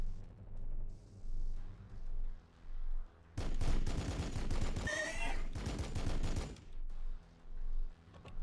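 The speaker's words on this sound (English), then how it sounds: "We're taking fire!" Video game gunfire from Warhammer 40K Battlesector, a loud sustained fusillade of rapid shots and bursts lasting several seconds, with quieter battlefield noise before and after.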